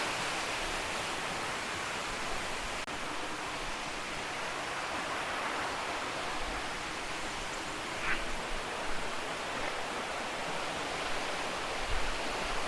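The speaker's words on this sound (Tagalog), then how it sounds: "So ito na yung waterfalls dito sa pinakaibaba na" Steady broadband rush of Maticdum Busay Falls in Tandag City, Surigao del Sur, Philippines, a constant hiss of falling water heard alone with no voices.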